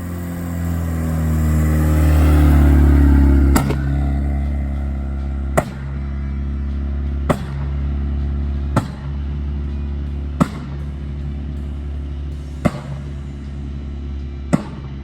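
A turbocharged Honda Civic engine idles with a low rumble, then fires off a series of sharp, loud backfire pops at roughly regular intervals, about one every second or two.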